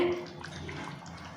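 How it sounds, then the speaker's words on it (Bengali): Water from a bowl used to rinse out yogurt is poured into spicy chicken curry, a brief watery splash and trickle that fades over a moment. "এই যে দইয়ের বাটিটাই গুলে 1 বাটি জল শুধু দিয়ে দেবো"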